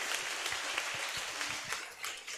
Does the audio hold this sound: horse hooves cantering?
no